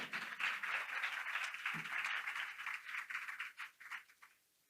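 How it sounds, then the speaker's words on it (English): Audience applause at a 2024 spotlight talk, a steady wash of many hands clapping that holds for several seconds then thins out and fades. "So I'll pause for a clap on that for transition."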